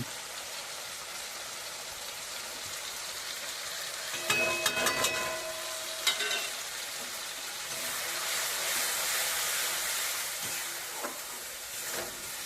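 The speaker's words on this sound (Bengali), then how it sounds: "সব কিছু দিয়ে মশলাটাকে আমি ভালো করে কষিয়ে নেব।" Chicken masala with chili powder, turmeric and salt fries in a pan, a continuous close sizzle broken by a cluster of clattering stirring knocks in the middle, with the hiss swelling again afterward.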